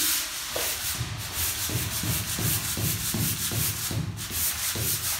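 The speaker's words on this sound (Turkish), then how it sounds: "Ondan sonra bu şekilde zımpara yapıyorsunuz." Rhythmic hand sanding of a plastered wall with a sanding block, a rough scratchy rub repeating in even back-and-forth strokes, close and steady.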